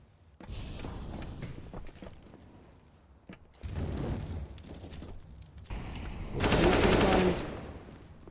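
Gunfire from a Counter-Strike esports match between two teams, with bursts of automatic rifle fire in separate clusters, the loudest dense volley near the end, under faint game ambience.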